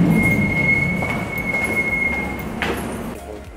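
A train rolls along the rails nearby, a sustained high wheel squeal ringing over a steady rumbling roar with faint clacks, loud and fairly constant before slowly fading.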